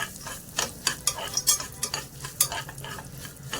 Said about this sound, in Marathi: काजू आणि बदाम आहेत ना ते पण मी यामध्ये घालते आणि थोडेसे परतवून घेते